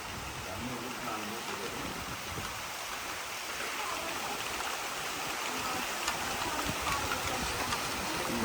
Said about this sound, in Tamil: பயங்கர மழை.